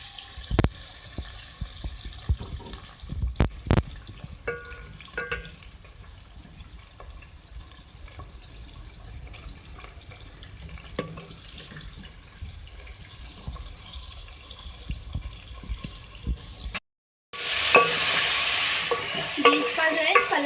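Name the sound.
beef pieces sizzling as they are added to hot oil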